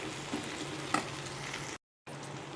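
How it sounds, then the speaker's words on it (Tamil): Chopped capsicum sautés in a hot pan with a steady, close sizzle and occasional stirring scrapes. The sizzle breaks off briefly near the end and then resumes. "இப்போது இந்த கட் பண்ணி வச்சுருக்க கேப்சிகமே இதில் சேர்த்துக்கலாம். இது ரெண்டும் ஒரு 5 நிமிஷம் நல்லா வதங்கி வரட்டும்."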